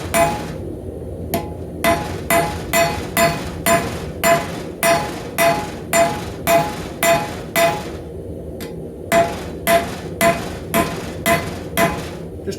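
Steady hammer blows strike a rebar knife blade on an anvil, flattening ridges at the blade end; roughly two ringing metallic strikes per second, loud and close, with one brief pause in the middle and no talking.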